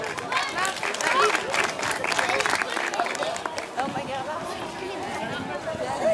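At an outdoor youth cyclo-cross race in Châteaugiron, spectators give a steady patter of applause for the youngest riders' podium, while an announcer talks over it and the crowd murmurs.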